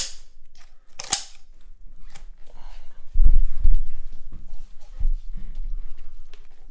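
A knife or shears work through the tough spine of a whole turkey, giving a sharp snap, then heavier cracking and crunching thuds close up, with no talk.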